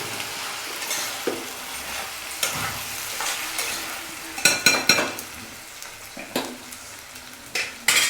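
A pan of potatoes frying with turmeric being stirred: steady sizzling broken by scraping strokes and a cluster of sharp utensil clicks against the pan, with no talking.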